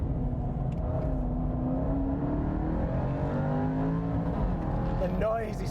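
The supercharged engine of a Jaguar XE SV Project 8 with titanium exhaust drones steadily from inside the car on hot laps at Portimao, a rising and falling engine note with supercharger whine under a speaking voice.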